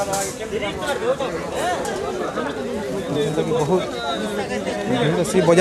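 A crowded weekly market at Saintala carries a dense, continuous babble of many overlapping voices, busy and close all around, steady throughout.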